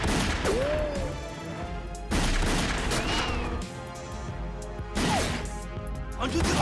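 Gunfire in a fight scene from a Vietnamese-dubbed action film about a female fighter against bandits: three loud, sharp shots or bursts spaced about two and a half seconds apart, with shouting and dialogue in between.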